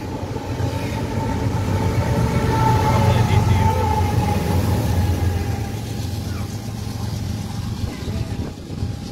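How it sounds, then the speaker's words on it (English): A train rumbles steadily past Fullerton Station, loud and close, with a faint tonal hum above the low roar before it gradually fades. "got to end a train coming up here."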